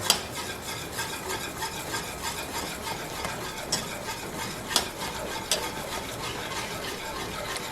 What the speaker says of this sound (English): And I'm going to add it to this mixture. stirring the whole time.